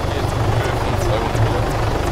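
A helicopter in the video game Arma 3's Altis Life mode roars with a loud, steady rotor thrum and rhythmic blade chop, close and continuous, with voices talking over it.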